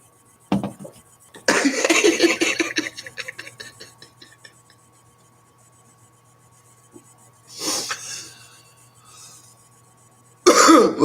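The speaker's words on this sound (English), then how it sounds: "don't get me coughing" A few harsh coughs and throat-clearing bursts, loud and close, separated by quiet pauses, with another coughing fit at the end.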